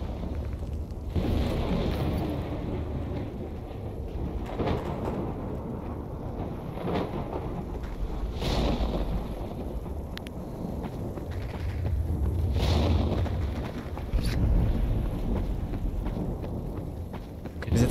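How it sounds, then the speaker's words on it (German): Storm wind howls in a S.T.A.L.K.E.R.-style game's meadow wilderness: a continuous broadband roar with low rumbling swells and occasional gusts, fairly loud and unbroken for the whole stretch. "Ist jetzt einfach nur ein normaler Sturm, oder was?"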